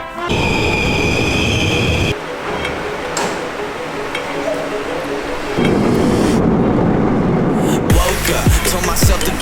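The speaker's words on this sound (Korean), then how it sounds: "지하철이 들어오네요" A subway train rumbles and clatters into a station, the loud mechanical noise shifting and building, with a sharp squeal near the end.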